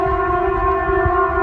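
A Norwegian emergency alert siren holds one steady, loud, multi-toned wail with no break, heard alone.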